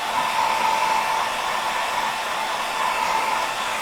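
A hair dryer blows steadily over craft paper for a junk journal, a loud, close, continuous whooshing hum with a faint whine and no speech.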